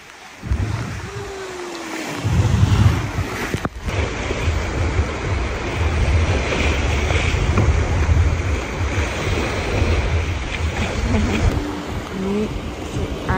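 Surf washes ashore at rising tide on an island beach at Pulau Tinggi off Mersing: a continuous loud roar of breaking waves mixed with gusty wind buffeting the microphone, with brief faint sounds near the start and end.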